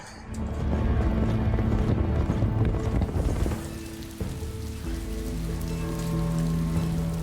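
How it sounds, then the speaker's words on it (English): Heavy rain falling in a House of the Dragon episode, a dense steady hiss for a few seconds that then thins and sits under sustained low music tones. "A lot of rain."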